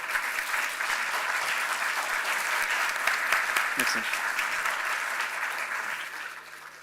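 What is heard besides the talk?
applause for conference panelists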